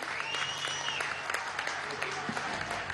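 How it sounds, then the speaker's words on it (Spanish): Dense, steady applause fills a large hall at a workers' political congress, a crowd clapping continuously at close range. "fuerte los aplausos para Mercedes, trabajadora del metro."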